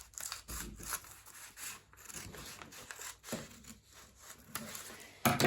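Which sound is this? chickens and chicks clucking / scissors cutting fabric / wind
scissors cutting fabric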